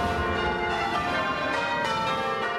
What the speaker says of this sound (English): they gave us the sound of church bells